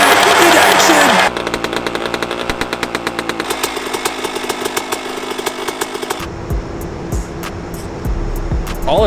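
A Suzuki RM125 two-stroke motorcycle engine runs after a kick start, a loud, buzzing, ringing rattle that stutters and revs unevenly before dropping toward a rougher idle, with excited voices over it.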